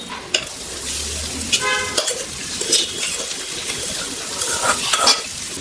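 Cooked rice tipped into a hot pan for lemon rice, with a short scrape and clatter of utensils on metal and light stirring over a soft background sizzle, fairly close.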